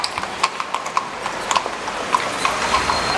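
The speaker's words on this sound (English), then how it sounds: "as you can see, we still have horses in the city" Horse hooves clip-clopping on city streets near Saint Stephen's Cathedral in Vienna, a steady rhythmic series of sharp hoof strikes heard at moderate distance over a constant urban background hum.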